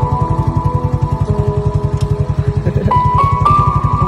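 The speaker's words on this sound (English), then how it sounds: "Suka kat motor baru Adam?" A new motorcycle idles close by with a steady, rapid engine putter, then rises slightly in pitch as it revs toward the end; no talking over it.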